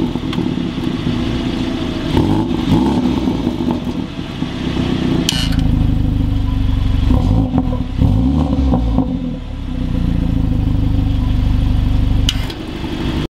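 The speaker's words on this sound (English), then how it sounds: "This is a twin tailpipe, and basically sounds way more aggressive than the other ones." Revving of a 2019 BMW 330i xDrive G20 with twin tailpipe exhaust: loud, close engine idle broken by several sharp throttle blips and rising revs, with no talk over it.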